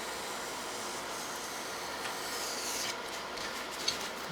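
A knife slices through a sheet of foam board while building a flying wing, giving a steady close scraping rasp that runs unbroken for several seconds at a moderate level.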